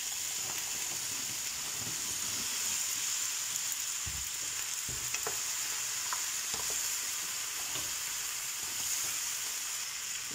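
Vegetables stir-frying in a pan give a steady close sizzle with scattered clinks and scrapes of stirring throughout, and no talking.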